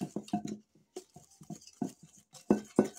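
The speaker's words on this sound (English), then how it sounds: "that is the dog trying to eat the cat food." A dog eating cat food from a bowl in a home kitchen, heard as a quick run of light clinks, crunches and pattering taps in short bursts, moderately close and on its own.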